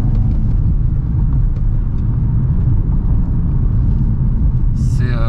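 Audi S3 driving on the road, a steady close low rumble of engine and tyres throughout, with a brief voice near the end.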